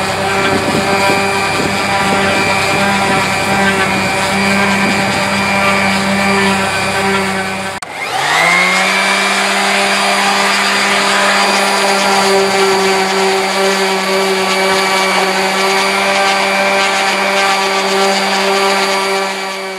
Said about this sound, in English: that's the side rub down with the sander